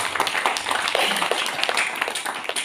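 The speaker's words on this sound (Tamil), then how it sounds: "இந்த மாதம் அவங்களுக்கு இதுக்காக ஒரு கைத்தட்டு கொடுக்கும்" A church congregation breaks into steady, dense applause, many hands clapping together at close range without a pause throughout.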